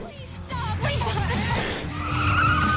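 A car spins out in a Tokyo Drift race, with loud, wavering tire squeal and skidding over engine noise, rising and bending in pitch as it slides, while a voice talks over it.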